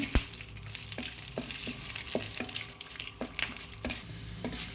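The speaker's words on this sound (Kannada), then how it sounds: "ಈಗ ಬೆಳ್ಳುಳ್ಳಿ ಸಾಸಿವೆ ಎಲ್ಲ ಫ್ರೈ ಆಗಿದೆ" Garlic and mustard seeds frying in a pan for fenugreek-leaf vangibath, a steady close sizzle broken by a run of sharp pops and spatters spread through the clip, with no voices.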